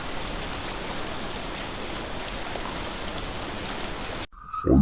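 Steady, dense rainfall, a constant loud hiss that continues evenly and then cuts off abruptly near the end.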